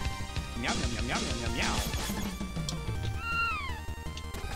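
A cat meows in the retro-style video game Bloodstained: Curse of the Moon, a few quick cries followed by a rising chime-like game tone, amid other in-game sounds.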